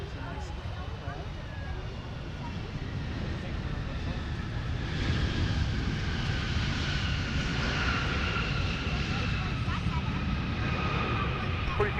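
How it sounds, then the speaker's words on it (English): A Boeing 757 airliner comes in to land at MSP airport, a broad steady engine roar that swells louder midway, with a voice talking over it. "757 coming in. It's a nice aircraft."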